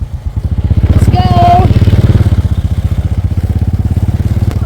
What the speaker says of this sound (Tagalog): Pasok naman ang motor dito.